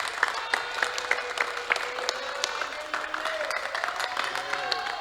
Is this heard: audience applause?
yes